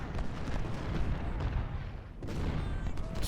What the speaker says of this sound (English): Just let the artillery do their thing.